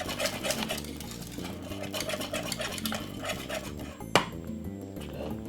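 Whisking Jamaican cornmeal porridge in a pot, a steady rhythmic scraping and clinking of the whisk against the pot, close and continuous, with one sharper clink near the end.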